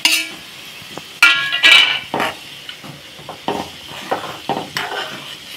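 Vermicelli (sewai) upma is stirred in a pan on a gas stove: a spoon scrapes and clinks against the metal in irregular bursts over a faint, continuous sizzle, with no one speaking.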